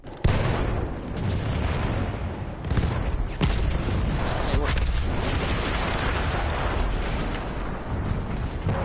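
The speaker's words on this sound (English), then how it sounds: "That explosion was one of the sweetest sights of the war for me." Explosion in the video game Battlefield 1, a sharp blast opening into a sustained, loud roaring rumble with further bursts and crackling debris throughout, no speech over it.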